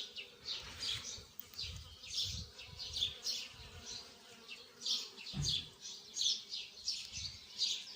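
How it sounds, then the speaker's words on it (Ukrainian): Many bees buzzing around a flower bed of roses outdoors, faint pulsing drones passing near and far with soft birdsong and a brief thump, no talking. "бджол тут дуже-дуже багато."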